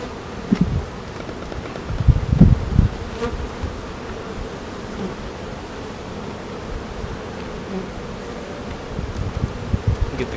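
Honeybees buzzing around an active beehive with honey supers, a steady dense drone close by, with brief rustling handling sounds near the start and end.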